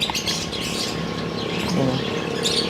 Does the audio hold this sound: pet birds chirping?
yes